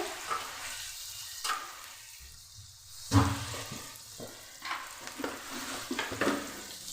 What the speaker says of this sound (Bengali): লো টু মিডিয়ামে করে এভাবে আস্তে আস্তে করে ভেজে নেবেন